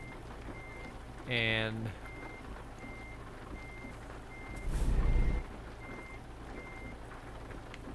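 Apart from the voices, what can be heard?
truck reversing beeps in American Truck Simulator video game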